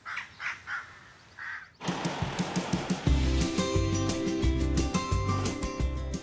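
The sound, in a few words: crows cawing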